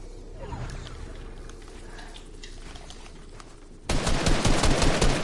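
Gunfire from a first-person video game shooter, scattered quieter shots at first and then a sudden loud burst of rapid, close automatic fire.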